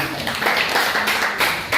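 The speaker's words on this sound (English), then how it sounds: "Round of applause." Round of applause in a school setting after a student's physics project defence, a short, steady patter of many hands clapping nearby with no pauses.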